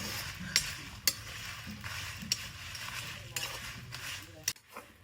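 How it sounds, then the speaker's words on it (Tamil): Red chillies and coriander seeds dry roasting in a pan, giving a steady light rustle with sharp scraping stirs and clinks of the utensil recurring every second or so, with no talking over it. "அப்படி வத்தல் மல்லி ரெண்டையும் போட்டு அது இதே மாதிரி"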